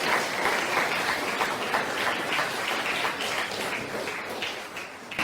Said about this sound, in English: And a round of applause, please, to Misha Roberts.